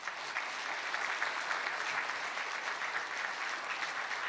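A church congregation applauding together, a dense, even wash of clapping that holds steady from start to finish with no voices over it.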